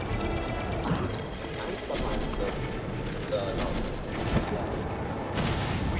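Cannon fire in Breath of the Wild, with sharp bangs and impacts cutting through a dense, continuous wash of game noise and music, loud throughout.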